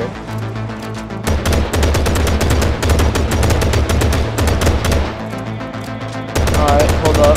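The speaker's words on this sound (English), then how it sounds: "Shooting them from a far away distance is like the technique here." Sustained bursts of rapid gunfire in a New Orleans gangster video game, loud and continuous with brief gaps between volleys, dense automatic shots filling the mix.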